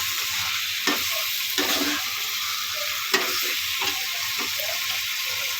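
Roasted golden soya chaap is stirred and fried in a pan, giving a steady bright sizzle broken by repeated scraping strokes of a spoon, close and fairly loud, with no talk.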